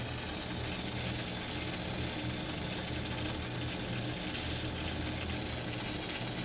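A feeding pump runs steadily along with loud hose noise, producing a continuous, even mechanical whir and rushing hiss close by that stays the same throughout with no pauses or talk.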